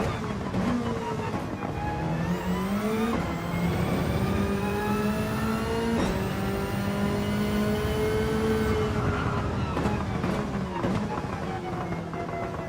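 Older Toyota Supra race car in Gran Turismo 7, its engine droning steadily and loud throughout, with rising pitch sweeps as it accelerates through gears and a couple of sharp shift breaks.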